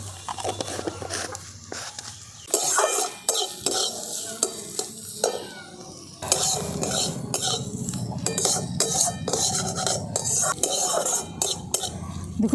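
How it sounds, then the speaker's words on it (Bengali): Chopped onions frying with a little salt in a pan, a continuous sizzle broken by repeated scraping and clinking of a spatula stirring against the metal, close and fairly loud, with no speech. "পেঁয়াজটা তাড়াতাড়ি ভাজা হওয়ার জন্য দিয়ে দিচ্ছি"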